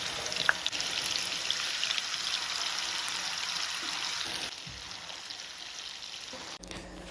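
Fish pieces frying in hot oil for a fish biryani give a steady, soft crackling sizzle that runs continuously, dropping slightly in level near the end.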